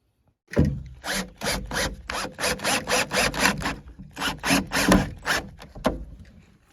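Screws are driven into wood while building a brooder box, heard as a close run of rhythmic grinding bursts from the driver, about a dozen in quick succession with brief gaps.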